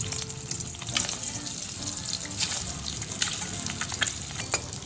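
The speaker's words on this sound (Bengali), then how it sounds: "এবার কেটে রাখা ডিমগুলো ভেজে নেব" Halved boiled eggs fry yolk-side down in hot mustard oil in a wok, a steady crackling hiss with sharp spits and pops, close and continuous.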